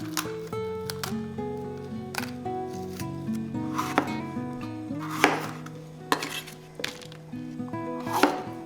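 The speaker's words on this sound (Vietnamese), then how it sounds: "ớt chuông bỏ hạt và cắt miếng vừa ăn." Knife chopping seeded bell pepper into bite-size pieces on a board, with a series of sharp uneven cutting knocks and some clinks, close and moderately quiet over a faint background hum.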